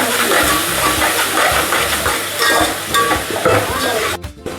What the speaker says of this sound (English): Add little bit of turmeric powder, and mix it nicely.